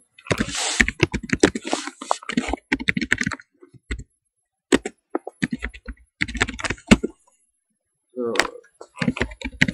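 Computer keyboard typing in bursts of quick clicks with short pauses, close and fairly loud, while programming a ComputerCraft turtle in Tekkit; a voice speaks between the keystroke runs.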